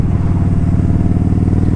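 A 2013 Kawasaki Vaquero motorcycle accelerates hard, its engine giving a loud, steady, throaty drone close by with a rich low rumble and no voices.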